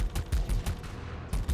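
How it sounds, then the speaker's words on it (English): Rapid bursts of video-game gunfire from a dragon in Doom The Dark Ages, a quick rattling series of close, punchy shots repeating in short volleys. "this dragon shoots bullets"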